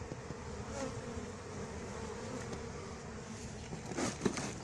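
A swarm of honey bees hums steadily during a swarm capture, a continuous close buzz with a few louder passes near the end.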